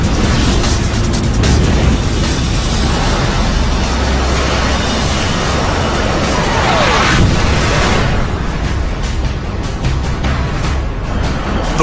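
A Sidewinder missile fired by a Raptor fighter strikes its target, producing a loud, sustained blast roar with heavy rumbling that swells midway and then slowly fades.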